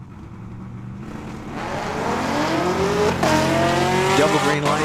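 Two drag cars, a 2019 Camaro and a big-block Ford powered 1987 Mustang, launch off the starting line at a drag strip, engines building to a loud, rising roar with tire squeal, close and continuous with faint announcer talk underneath.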